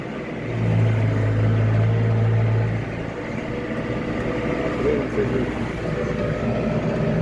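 A tractor pulling a plough along a furrow drones with a steady low engine rumble, close and fairly loud. A deep hum stands out at first, then the engine noise settles into an even churn.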